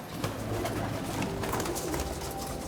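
Fancy pigeons kept by a breeder in Karachi, including royal and fantail varieties, coo softly and continuously against a steady, busy background hum, with no one speaking.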